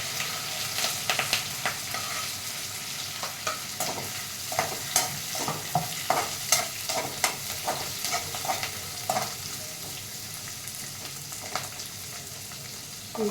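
Vegetables with green chillies, curry leaves and carrot are stirred in a hot pan for veg fried rice, a soft sizzle under repeated scraping strokes of a spoon, close up and without speech.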